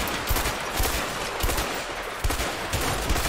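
Dense rapid gunfire in a shooter video game, a continuous spray of loud close shots with repeated bursts, no talk over it.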